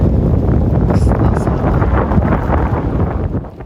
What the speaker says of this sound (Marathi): वारा आहे, छत्र्या चालत